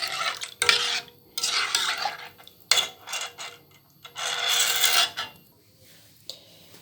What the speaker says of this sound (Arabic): هنقلب فيها كده لحد ما تربط معانا